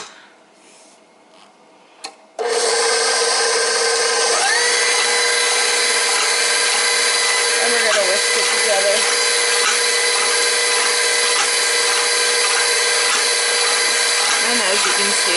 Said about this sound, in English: we're just going to turn on the mixer to whisk it around